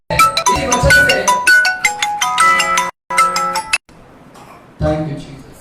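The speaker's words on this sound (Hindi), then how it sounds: "मुझे कॉल आ रहा है।" A melodic phone ringtone signals an incoming call during a Sunday church service, playing loud and close in repeating phrases for about five seconds, with a brief break and a fainter tail.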